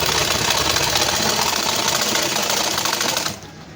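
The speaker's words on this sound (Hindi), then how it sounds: "कपड़े पे सिलाई चला लीजिए।" A sewing machine runs steadily, stitching blouse fabric with a fast, even mechanical whir that stops abruptly near the end.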